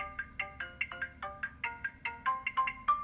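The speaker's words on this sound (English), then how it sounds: "What about custom ringtone?" A custom phone ringtone plays a bright, plucky melody of quick repeated notes in a steady rhythm, clear and close with nothing else over it.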